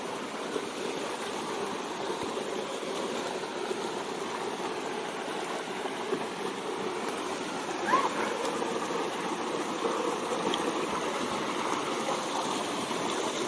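A mountain river flows in a steady, full rush of water, a constant broadband roar close by with no breaks.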